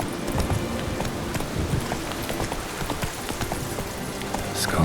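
Roach, Geralt's horse in The Witcher 3: Blood and Wine, gallops in close with a fast, steady clip-clop of hooves over continuous rushing noise.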